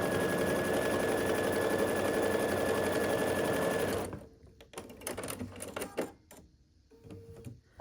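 Sewing machine stitching quilt triangle pieces for a Diamond in a Square Star block. It makes a loud, steady whir for about four seconds, then stops, leaving quieter scattered handling clicks.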